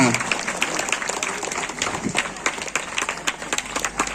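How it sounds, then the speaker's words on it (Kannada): Students applauding loudly at a Revathi Foundation 2024 event, a dense, continuous crowd clapping that holds steady throughout with a mix of sharp individual claps. "ವಿದ್ಯಾರ್ಥಿಗಳಿಂದ ಮತ್ತೊಮ್ಮೆ ಜೋರಾದ ಚಪ್ಪಾಳೆ ಬರಬೇಕು"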